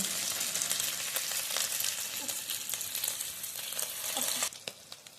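Vegetable pakoras made with rice flour fry in hot oil, giving a steady, dense sizzle close by that drops off abruptly near the end, with no voices.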